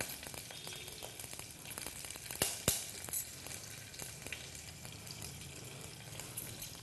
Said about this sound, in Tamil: கடுகு நல்லா பொரிஞ்சதும் காஞ்ச மிளகாய் சேர்க்குறோம்